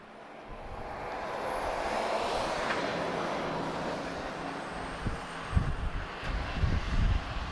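An airliner taking off at Lisbon Airport, a broad jet roar swelling from a distance and holding steady, with heavy low wind buffeting on the microphone toward the end.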